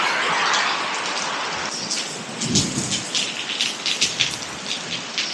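Heavy rain pours down steadily around a backyard shed in a dense, loud hiss with irregular closer patters and splashes, and a low rumble swells briefly in the middle.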